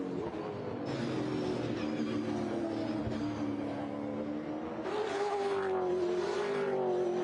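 A Supercars race car engine at Mount Panorama holds a loud, sustained tone that dips and rises as it shifts and accelerates, with whooshing passes and tire noise, continuous and close throughout.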